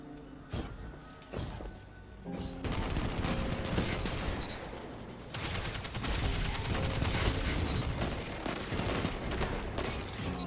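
Repeated hand cannon shots from a sniper-style weapon in a first-person shooter video game, heavy booming blasts firing in a dense, continuous barrage with a few brief pauses early on.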